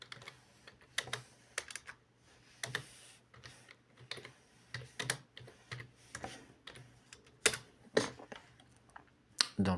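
Someone types a question into ChatGPT on a computer keyboard, producing irregular clusters of close, crisp key clicks separated by short pauses, with a louder keystroke near the end.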